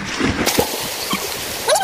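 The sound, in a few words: children splashing as they dunk into cold water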